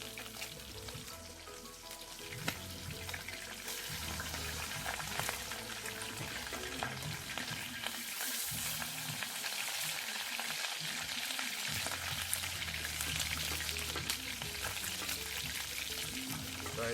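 Sprat fish frying in hot oil outdoors for Jamaican-style escovitch give a steady, dense sizzle and crackle throughout, close up and fairly quiet, with occasional clinks from handling the pan.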